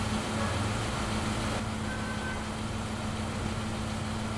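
A bus engine idles in a visual novel game, a steady low rumble with a constant hum that runs through the whole stretch without voices.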